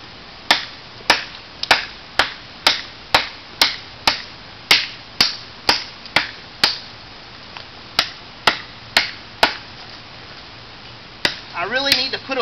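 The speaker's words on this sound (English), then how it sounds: "Cut us a piece of firewood." An MTech 525 blade chops firewood in a steady run of about nineteen crisp, evenly spaced strikes, each a sharp woody crack close by. A brief rustle follows near the end.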